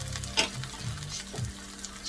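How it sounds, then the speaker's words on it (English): Onion sautés in a pan with a loud, close sizzle, broken by a couple of quick stirring scrapes, no talking. "Now that my onion is nicely sautéed and golden brown,"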